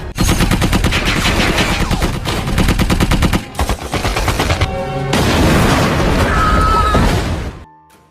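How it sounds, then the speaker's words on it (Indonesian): Heavy gunfire in a war film battle scene, rapid loud bursts of shots and booms running almost continuously before and after a short lull, ending abruptly in quiet. "Dan sialnya Thomas tertembak saat dia sudah menyalakan bom"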